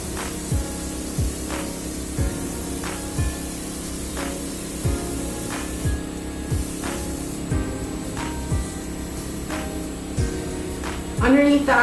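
A Dinair airbrush sprays foundation makeup onto a face around the eyes, nose and cheeks, a steady soft hiss of compressed air pulsing in short regular bursts about once a second over a low hum.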